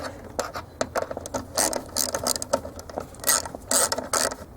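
Metal screw driven into a kick panel area during repair work on a BMW M5, heard as a busy run of close, rapid ratcheting clicks in repeated bursts, loud and alone without talk.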